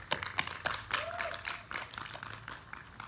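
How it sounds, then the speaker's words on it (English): A church congregation at a live worship service claps in scattered, modest applause, soft and somewhat distant, with a brief tone and faint voices underneath. "Another round of applause for Logan."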